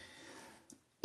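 A man gives a single sharp, loud cough at the very end, after a brief quiet stretch that holds faint breathy noise.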